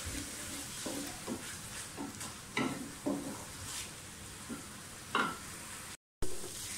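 Onions fry in a pan with a soft, steady sizzle, broken by repeated spatula scrapes and stirring knocks at irregular intervals, then a brief dropout before the sizzle resumes.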